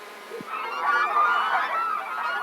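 Geese on an organic cotton farm honking near and loud, a cluster of overlapping nasal calls forming a continuous clamor across the short stretch, with one brief low thump at the start.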